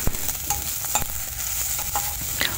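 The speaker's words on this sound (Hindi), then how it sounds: "और प्याज को मैं भून लेती हूँ ऐसे हल्का से अभी।" Chopped onion with ginger-garlic paste fries in a pan being stirred, a soft sizzle broken by repeated spatula scrapes and clinks, close by with no talking.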